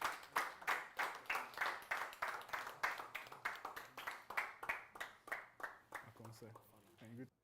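A live audience claps in a sustained round of applause to welcome a speaker on stage at a technology talk, with dense, even claps throughout and a voice starting to speak as it fades near the end.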